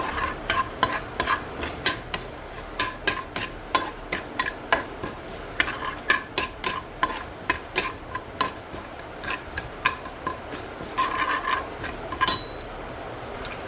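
Ginger and spices frying in a pan for a brinjal curry, with sharp, irregular ticks and crackles popping over a steady low sizzle, close and fairly clear throughout.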